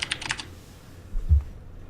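A computer keyboard typed on loudly, with a rapid burst of clacking keystrokes up front, then a quieter stretch and a low thump near the end, with no talking.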